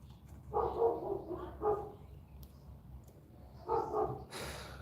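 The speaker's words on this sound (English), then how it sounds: "My neighbor's dogs have woken up, I think, from their afternoon nap." Dogs bark from a neighbouring yard, a few short bursts of barking in two clusters, moderately distant and at middling volume over a quiet background.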